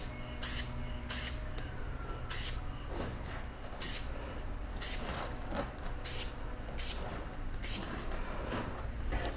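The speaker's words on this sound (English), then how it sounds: "I'm spraying this and I'm letting it fly over to the side." An aerosol spray paint can hisses in about ten short, evenly spaced bursts as it coats an electric cactus artwork, with faint background noise between sprays.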